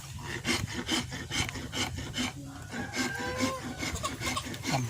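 Wooden plane shaping a wooden knife handle, repeated rhythmic rasping strokes of blade on wood, close and fairly loud, steady back-and-forth pattern with a few faint squeaks.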